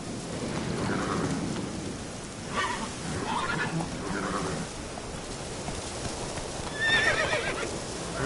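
A horse whinnies and snorts over steady clip-clopping hooves, with rain and rumbling thunder filling the background; the neighs rise in bursts, the last one high and close near the end.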